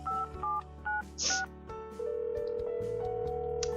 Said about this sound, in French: sors mon téléphone pour appeler mon homme